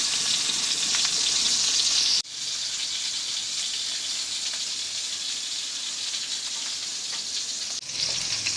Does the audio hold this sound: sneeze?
no